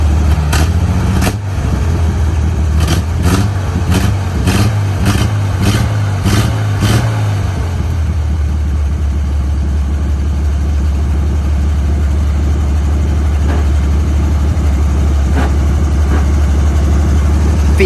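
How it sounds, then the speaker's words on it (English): A 1955 Dodge M152 military truck, started cold after sitting for fifteen years, is blipped through a series of sharp, loud engine revs. It then settles into a steady, rumbling idle, close up with no talk. "We give the engine a few revs so that way the engine doesn't stall out."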